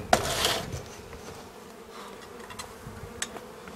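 Small honeybee swarm buzzing around a nucleus hive outdoors, a close droning hum that swells at the start and then settles to a softer continuous buzz with a few brief passes.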